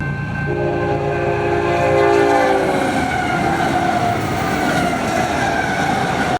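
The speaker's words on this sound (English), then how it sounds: "is that a train?" A train on the Strasburg Railroad rumbles steadily nearby with a sustained, loud horn blast layered over the clattering roar, filling the whole stretch with no talking.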